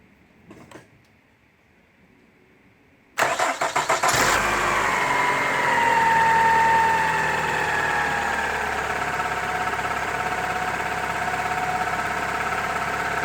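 A 2000 Toyota Camry engine cranks and catches after a brief quiet stretch, briefly revving before settling into a steady, fairly loud idle that continues alone.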